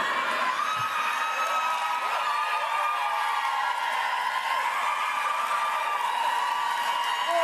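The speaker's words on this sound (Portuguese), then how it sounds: "E todo mundo aplaudiu." Large crowd at a Hillary Clinton event cheering and whooping continuously, a dense sustained roar of many voices with no pauses.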